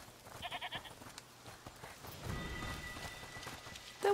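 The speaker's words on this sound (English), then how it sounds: "Listen, is that the goat he talked about? It's the screaming goat." A screaming goat in the video game A Plague Tale Requiem gives a short burst of bleats early on, then stays quiet while faint game ambience fills the rest and a sharp tone enters at the very end.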